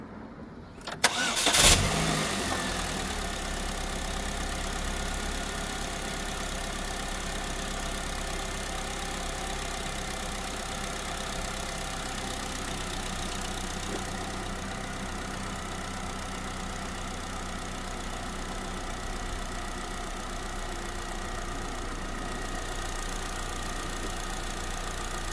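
Chevy Cobalt with 371,384 miles cranks and fires up, then settles into a steady, even idle that drones on unchanged for over twenty seconds.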